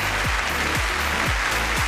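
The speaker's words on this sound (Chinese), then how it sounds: "也把掌声送给我们两位企业家" A studio audience on a Chinese job-hunting TV show claps in sustained, dense applause, loud and even from start to finish with no speech over it.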